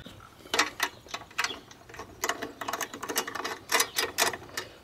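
A 10 mm socket wrench clicks as it backs out the top cover bolts on a push mower, a close, fairly quiet run of uneven ratcheting ticks with no talking.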